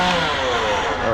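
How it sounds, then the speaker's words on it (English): A small handheld blower runs in a car workshop, its motor giving a brief, loud, steady buzzing whir with no voices. "I almost killed my little handheld blower. Make sure it still works here."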